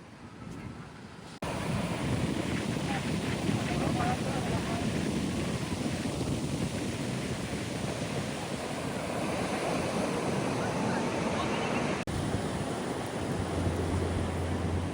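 Sea waves and wind at Riva Beach in Goa make a constant broad wash of surf with a breezy rumble, steady and fairly soft, continuing for the whole stretch.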